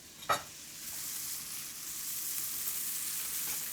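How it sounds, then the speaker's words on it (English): Garlic and shallots sizzle steadily in a hot pan, a sharp brief crackle at the start settling into a continuous close hiss that holds level to the end, with no one talking. "Once your shallots are soft, you can add your garlic. And now just let this cook for another minute or two"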